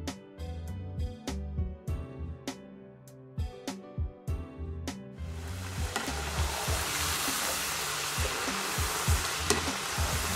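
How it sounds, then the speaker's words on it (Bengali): Potatoes for French fries going into hot oil: first a series of sharp clanks and taps, then a loud, dense hiss of deep-frying that takes over and holds steady, close by. "যেটা আলু ফ্রাই করবো দুই মিনিটের মতো একটু ভেজে নিচ্ছি"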